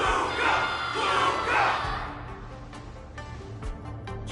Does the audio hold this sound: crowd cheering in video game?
yes